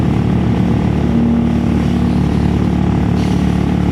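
A Triumph Trident motorcycle engine runs loud and close, a steady throaty drone with a slight rise in revs and no pauses.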